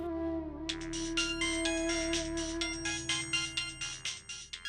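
Phone ringtone plays a bright, repeating electronic melody of short tonal bursts, clear and alone against quiet room tone.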